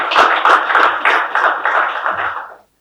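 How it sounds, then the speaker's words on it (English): An audience at the Rome Business School Nigeria Business Fair 2023 applauds a speaker. The clapping is dense and steady, with regular surges, then stops abruptly. "A round of applause for him. It can be louder."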